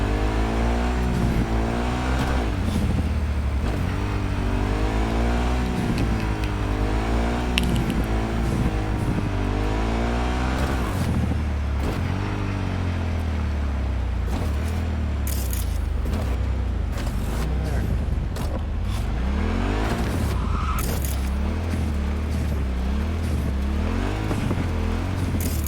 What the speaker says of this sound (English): I like hearing the motor.